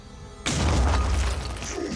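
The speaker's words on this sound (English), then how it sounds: "Go for another grenade toss." A heavy, booming grenade blast in the tactical game Phoenix Point hits suddenly after a quiet moment, with a deep rumbling roar and crackling debris that lingers loudly to the end.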